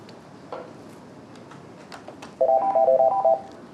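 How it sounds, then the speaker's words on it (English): An NEC SL1100 desk phone rings once with a short electronic warbling burst of repeated tones, clear and close against a quiet room hum. "Okay, so the phone's ringing."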